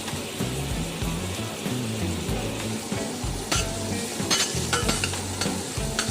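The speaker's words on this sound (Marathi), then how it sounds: "आपल्याला मसाला सोनेरी करण्यासोबतच त्यातील तेल पूर्णपणे वेगळे करायचे आहे" Spicy masala for Maharashtrian sev bhaji fries in oil while being stirred, giving a steady close sizzle with scraping spoon strokes throughout and no talking.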